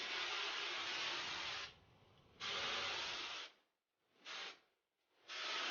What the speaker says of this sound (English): I'm going to add some hairspray